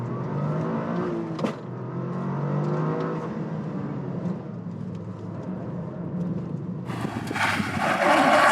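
A Toyota GR Corolla's three-cylinder turbo engine pulls hard at full throttle with the steering at full lock. The loud, continuous engine roar climbs, and rushing turbo and road noise swell near the end.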